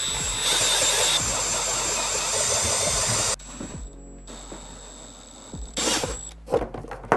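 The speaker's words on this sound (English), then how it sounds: "we can go ahead and enlarge these holes using a paddle bit here, a" Drill fitted with a 7/8 inch paddle bit enlarging holes for a portable ZimaBoard 832 media server build, whining loudly and steadily up close for several seconds, then stopping and returning in a shorter burst.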